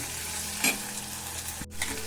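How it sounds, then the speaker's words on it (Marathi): Onion and tomato sauté in a pan, a close, even sizzle with a brief scrape of stirring and a short knock of the spoon partway through. "टोमॅटो देखील चांगलो परतून घ्यायचो."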